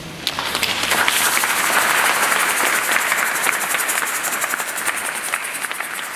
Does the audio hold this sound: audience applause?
yes